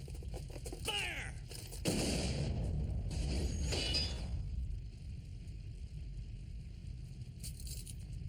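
Soldiers fire on command in an anime battle, with a sharp volley of gunshots and cracking, shattering bursts followed by fainter scattered shots and a steady low rumble beneath.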